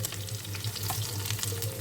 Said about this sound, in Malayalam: കടുക് പൊട്ടിക്കഴിയുമ്പോൾ ഉള്ളി ഇട്ട് കൊടുക്കാം.